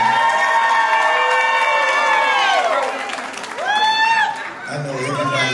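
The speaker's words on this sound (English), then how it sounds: "talented young lady a big round of applause" A live show crowd at a performance in Ville Platte applauds and cheers for a young woman, with whoops and shouts rising over the clapping and a voice breaking through near the end.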